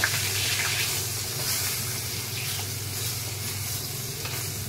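A fish head fries in hot oil, giving off a steady, fairly close sizzling hiss that runs evenly throughout with no voices over it.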